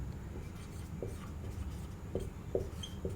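Marker or chalk writing a conclusion on a board during a reasoning lecture, giving faint intermittent scratches and taps over a steady background hiss.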